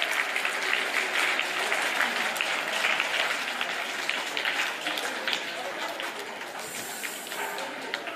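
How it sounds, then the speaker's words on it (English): Parents applaud teachers at a school science exhibition, a dense, steady wash of many hands clapping together that stays strong throughout and tapers only slightly toward the end. "Parents, please clap for the teachers."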